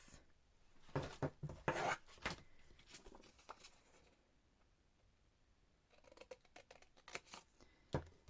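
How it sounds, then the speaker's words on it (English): Scissors snip through a strip of fabric, several quick close cutting bursts in two clusters separated by a quiet pause, faint and near. "I'm going to cut this in half"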